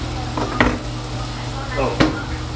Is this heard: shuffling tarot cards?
no